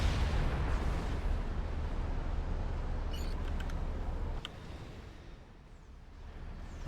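Heavy artillery from a Fatboy unit in the Supreme Commander: Forged Alliance strategy game, a loud continuous rumbling barrage with sharp impacts, thinning out and quieter toward the end, with no talk.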